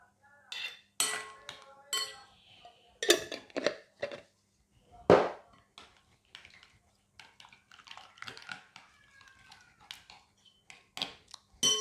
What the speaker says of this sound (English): a lot of this mango sauce, a lot. You stir.